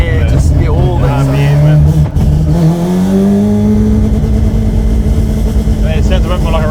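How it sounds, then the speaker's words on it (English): A Mazda RX7 with a rotary engine, a 26B, revs hard nearby from inside the car, its loud buzzing note climbing steadily in pitch as it accelerates, with voices briefly heard over it. "It sounds a bit more like a Rotary there now."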